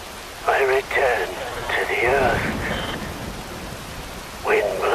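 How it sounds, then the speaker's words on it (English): Rain falls in the video game Metal Gear Rising: Revengeance as a steady hiss beneath a voice speaking in short phrases. "Rain falls."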